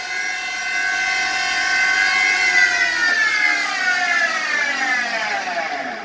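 A resized Hardinge CHNC CNC lathe spindle with a 7.5 horsepower drive runs at 6000 RPM, giving a loud, steady, close mechanical whine with many rising tonal layers as it spins up and holds speed.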